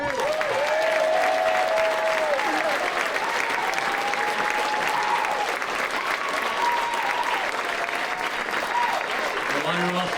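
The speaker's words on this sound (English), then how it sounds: "How about a round of applause for me?" Steady applause from a large crowd at a sports hall of fame ceremony, continuous and dense throughout, with a few voices calling out over the clapping.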